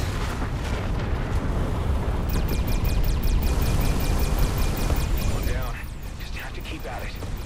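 Rumbling explosions from a power network being overloaded in a sci-fi video game mission against an Okkar Prime frigate, a dense continuous roar of blasts with rapid metallic bursts layered on top, easing off near the end.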